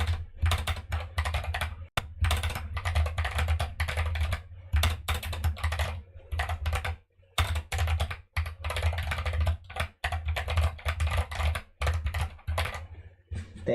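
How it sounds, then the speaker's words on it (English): Rapid clattering keystrokes on a computer keyboard in quick bursts, separated by brief pauses, close and clear with no talking. "You probably heard it a couple of times because I'm typing"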